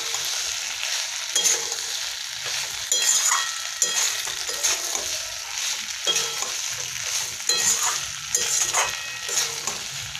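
Chicken pieces frying in a pan for Bengali chilli chicken: a continuous close sizzle with repeated sharp clatters of stirring against the metal pan, busy and steady throughout.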